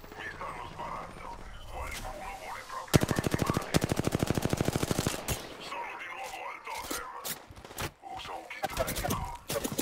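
Rapid automatic gunfire in the battle royale video game Apex Legends, a loud sustained burst followed by scattered shots and clatter, with game voice lines spoken in Italian over the action.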